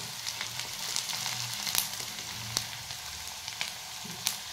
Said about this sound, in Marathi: हा खडा मसाला हे पण चांगलं तेलात मिक्स करून घ्यायचं.